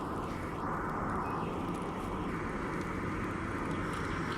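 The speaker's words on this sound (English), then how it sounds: "when the plane goes overhead, they mute the stream" Airdrop plane flying overhead in the video game Escape from Tarkov, a steady loud droning engine roar that holds throughout with no voices.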